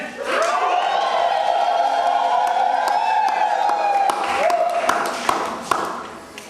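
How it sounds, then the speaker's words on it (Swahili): Women ululate at a church wedding, a high, sustained warbling chorus of several voices rising and falling over crowd noise, with claps and whoops joining near the end. "Vigelegele."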